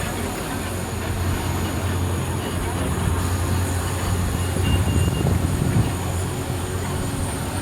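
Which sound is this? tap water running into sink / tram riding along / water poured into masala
tram riding along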